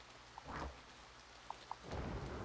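Rain and rolling thunder in the video game A Bird Story, a steady wash of rainfall with a low rumble swelling near the start and again louder toward the end, plus a couple of brief soft tones.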